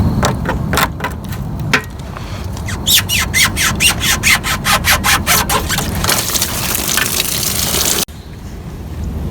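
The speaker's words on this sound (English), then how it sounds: "just a series of hoses here that need to be pulled off, and here's the lower radiator hose" The lower radiator hose is worked off a 2002-06 Toyota Camry 3.0 L engine, giving a loud, rapid series of rubbery squeaks and rubbing sounds that end in a rough, hissing scrape.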